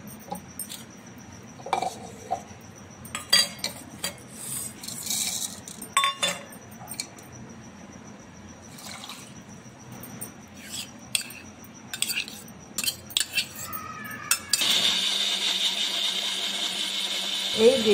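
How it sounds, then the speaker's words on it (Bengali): A mixer grinder blends boiled potato, salt, sugar, cold milk and cream, first heard as clinks of the jar and lid with scattered clatter, then a steady loud whirring motor at close range near the end. "এই সবগুলো মিক্সিতে দিয়ে বেটে নিতে হবে"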